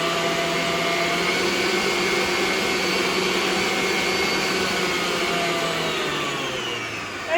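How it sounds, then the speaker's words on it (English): Electric stand mixer creaming soft butter and sugar together for cherry bars, a steady loud motor whir running without a break, easing slightly at the end. "we are going to cream the butter and the sugar together"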